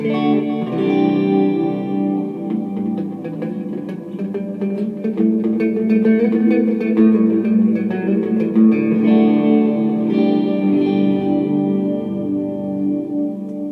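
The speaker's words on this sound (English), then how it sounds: "I have a very ethereal reverb going because my amp actually has reverb" Electric guitar chords ring out steadily through the amp's washy, ethereal reverb, notes blooming and trailing into a long shimmering tail.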